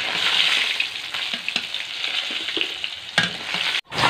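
Pieces of katla fish fry in hot oil in a pan, a loud continuous sizzle with scattered pops and crackles and a few sharp stirring clicks, no talk.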